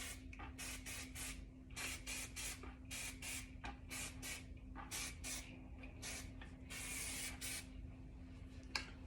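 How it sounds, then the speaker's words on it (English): Wax blast hair spray is puffed onto the ends of styled hair in a series of short, close hissing bursts, with one longer spray near the end, over a steady low background hum. "a little bit of wax blast on some of these ends to keep them kind of sealed together"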